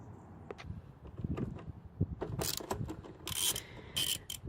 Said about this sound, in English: I'm using a 10 millimeter 1/4 inch drive. Okay, take that bolt out here